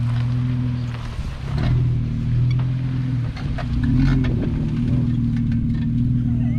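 A Jeep engine drones steadily as it drives off-road along a dirt ridge, a loud, close, low rumble that swells and dips slightly with the throttle, with no talking.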